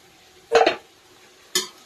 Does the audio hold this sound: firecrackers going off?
no